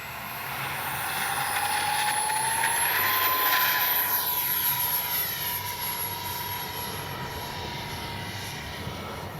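An X-Fly SU-57 radio-controlled jet plane on its maiden flight passes overhead, its turbine whine rising in pitch and swelling in loudness, then easing off slightly as it carries on; no voices.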